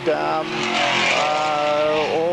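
A 280 cubic inch Mustang race car at the 1981 IMSA Kelly American Challenge at Brainerd, its engine droning loud and steady with a rising then dipping pitch, under continuous commentary.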